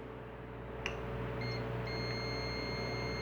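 A multimeter gives a short electronic beep and then a steady tone while testing continuity between the wires of an air-conditioner compressor, heard faintly over a constant low hum.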